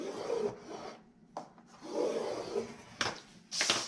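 A hand scoring tool is drawn along a workpiece in a few slow, rasping strokes, close and fairly quiet, with short pauses and small handling knocks between passes.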